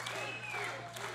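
Wrestling arena crowd at the Davis Arena cheering and clapping for Truth Magnum, a roar of applause and shouts with a commentator talking over it.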